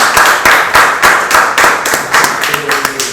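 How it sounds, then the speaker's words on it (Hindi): Audience at a press conference for the Dada Saheb Phalke Award 2020 claps in a loose, rhythmic pattern, loud and close, with individual claps distinct and a faint tonal hum underneath toward the end. "तालियां हो जाए एक बार"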